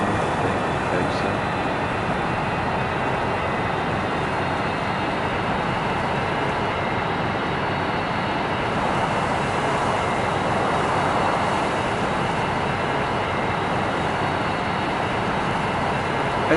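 Steady, unbroken airplane engine drone from the video game Aeroplane Flight Simulator Evo on PS5, a loud broadband roar that holds even throughout with no pauses or talk.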